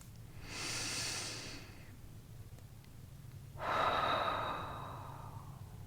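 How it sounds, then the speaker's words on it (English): Two slow, deep breaths during a guided meditation, a long airy inhale followed by a fuller exhale, close and clear against a quiet room. "I welcome you to take your seat and to join me in taking a breath"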